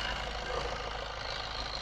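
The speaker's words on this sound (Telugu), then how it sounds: "ఇంజన్ సౌండ్ చాలా నీట్గా ఉంది" A 2010 Maruti Ritz VDI diesel car engine idles steadily, a continuous close rumble with a faint knocking texture and no talk over it.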